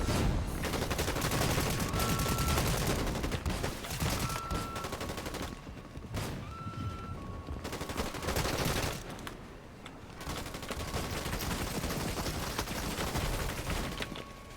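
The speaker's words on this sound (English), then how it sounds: "Who's shooting me?" Sustained bursts of video game gunfire from Fortnite, rapid shots and automatic fire layered densely for most of the stretch, loud and close with brief lulls, no talking.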